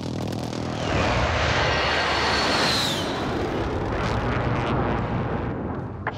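A jet airstrike in Warzone sweeps overhead as a loud, close, roaring flyover with a rising whoosh and a rumbling blast wash that holds for several seconds.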